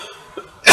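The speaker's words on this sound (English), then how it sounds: "so I'm still coughing from it" A single loud, close cough from someone recovering from bronchitis, bursting out suddenly near the end after a brief quiet pause.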